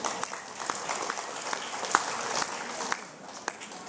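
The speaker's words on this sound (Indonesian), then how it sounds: "Itu tepuk tangan buat siapa tuh?" Applause from a seated audience at a book discussion event: a moderate, fairly distant wash of clapping with scattered sharper claps standing out, and murmuring voices underneath.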